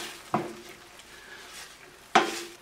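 Marsala sauce with mushroom caps simmering and reducing in a pan, two distinct spoon scrapes against the pan over a faint steady simmer, close and otherwise quiet.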